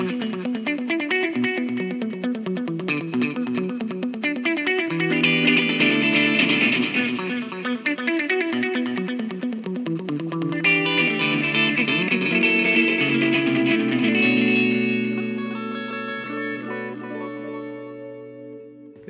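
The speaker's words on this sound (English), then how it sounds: "This is like a wah-wah delay thing." An electric guitar plays through a wah-wah delay preset on an XTONE iOS audio interface, sweeping filtered notes with echoing repeats, loud and continuous, fading at the end.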